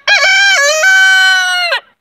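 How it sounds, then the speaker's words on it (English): A rooster named Charlie crows once loudly and close by on a small ranch in winter, a long, bright, harmonic call with a stuttering start and a drawn-out ending, heard alone. "I'll just pause when the roosters crow."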